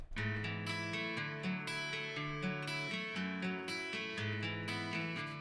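Strummed acoustic guitar chords ring out with a warm, slightly gritty tone and a lush reverb tail, played steadily and fairly loud with no voices.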